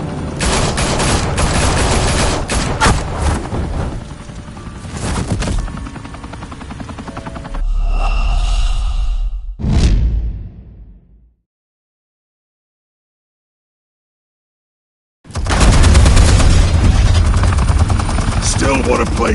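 Video-game gunfire from Batman: The Telltale Series, with dense rattling bursts over a helicopter-like roar and voices, then a sharp blast, a fade to silence, and the loud roar returning.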